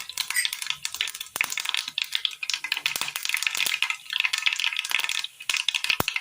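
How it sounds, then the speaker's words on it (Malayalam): Mustard seeds pop and splutter in hot oil for a curry, a close, dense run of sharp crackles and small bursts that continues throughout. "കടുക് പൊട്ടി വരുമ്പോൾ"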